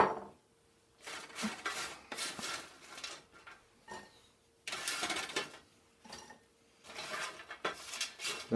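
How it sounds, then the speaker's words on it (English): French fries tumble into bowls for a chicken nugget poutine, making several separate bursts of rustling, clattering noise with short quiet gaps between them, close and fairly loud with no talking. "So first we'll put some French fries in our bowls."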